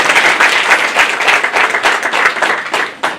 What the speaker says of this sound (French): Applaudissez pour Wakawel.